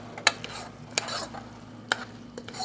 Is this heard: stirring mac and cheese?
yes